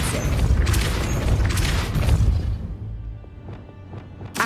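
The Depulso spell is cast in the video game Hogwarts Legacy, a loud booming blast with whooshing debris that fades out, followed by a few faint clicking game sounds.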